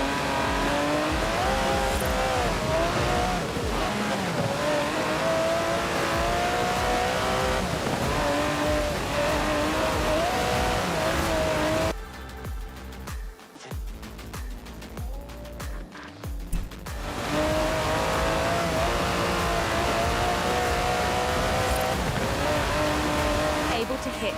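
Aston Martin DB11 with its 5.2-litre twin-turbo V12 in Forza Horizon 4, roaring loud and continuous at high revs, dropping off briefly mid-way before surging again, with a voice speaking over it.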